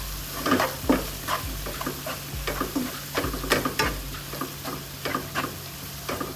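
Paneer masala mixture being stirred in a pan, a steady series of close scraping strokes over a soft continuous sizzle, with no talk.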